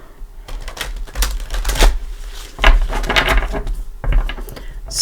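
Tarot cards being shuffled by hand, a few quick bursts of riffling and flapping close up, separated by short pauses.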